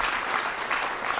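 Audience applause at a press conference for a housing initiative milestone, a steady wash of many hands clapping at moderate distance, filling the whole short moment without pause.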